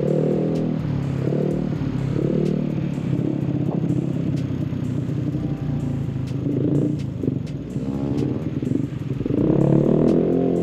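A Yamaha Mio motorcycle engine runs while riding, its revs rising and falling in repeated sweeps over a continuous close rumble with light clatter, and no talking.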